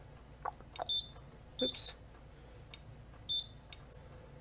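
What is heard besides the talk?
Wheelock alarm device beeping at full gas concentration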